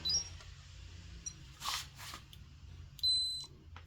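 An electronic tester being switched on gives a couple of short, high electronic beeps, one brief chirp at the start and a longer steady tone near the end, over low background hum.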